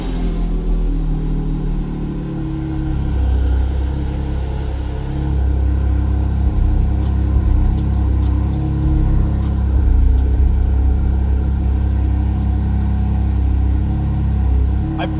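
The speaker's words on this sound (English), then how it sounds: "I personally love the way this car sounds when it starts up." A Porsche Spyder RS engine starting and revving, a loud, steady mid-range engine roar that rises partway through and holds, with brief voices underneath.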